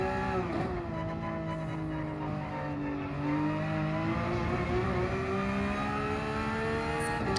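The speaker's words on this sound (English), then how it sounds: "That's a nice sounding car." A Porsche 992 GT3 R racing engine in Gran Turismo 7 revs loudly and steadily, its pitch dipping then rising again as it accelerates, heard close and without pause.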